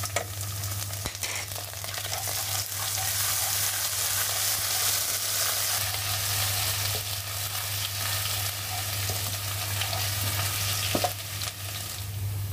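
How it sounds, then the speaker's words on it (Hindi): Onion and a spoonful of ginger fry in a pan for palak paneer, giving a steady, close sizzle throughout with occasional soft knocks of stirring and a low background hum. "हमारा प्याज हल्का भून चुका है। अब हम इसे एक चम्मच अदरक डालते हैं किसी।"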